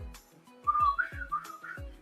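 A person whistles the Lassie theme song in a short, clear melodic phrase of a few sliding notes, close and fairly soft, with faint thumps underneath.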